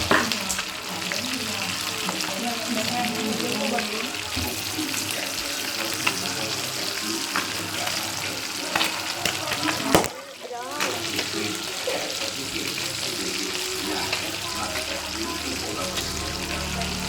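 Fish frying in hot oil with fish sauce added, sizzling and spattering loudly and steadily up close, with a brief sharp disturbance partway through and faint talk in the background.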